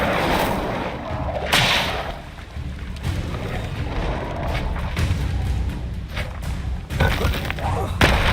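Incendio fire spell cast in Hogwarts Legacy, a whooshing burst of flame with thuds and whip-like cracks, heard several times in quick succession amid dense combat noise and voices.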